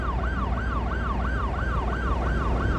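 Wailing ambulance sirens from a city-building video game, a steady repeating rise-and-fall cycle roughly every third of a second, loud and continuous over a low rumbling traffic bed.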